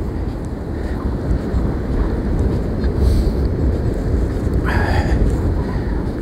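Hurricane-force wind roaring at the coast in Anapa, a steady loud rush buffeting the microphone with sea and surf noise beneath, continuous with no talk.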